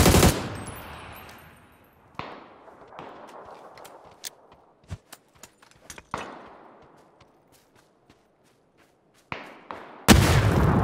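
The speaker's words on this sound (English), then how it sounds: "Why are you shooting at me?" Gunfire in the PUBG video game, loud booming shots with long decaying echoes, separated by gaps of scattered sharp cracks and thuds, then a final burst of loud firing.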